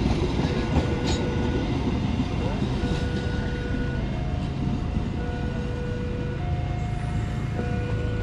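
A rake of passenger train cars, an economy coach and a dining car among them, reversing through Ngawi railway station in late afternoon, giving a steady continuous rumble with faint squeals and clanks throughout, with people talking nearby.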